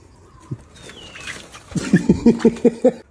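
Chickens on a chicken farm cluck in a quick run of short, rhythmic calls, moderately loud and close, following a brief quieter stretch of faint farmyard sounds.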